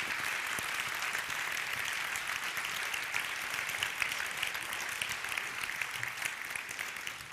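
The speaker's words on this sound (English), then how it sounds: "Can we give her a round of applause?" Steady audience applause filling a room at a talk about vision quests and confronting fears, dense continuous clapping that carries on evenly without voices.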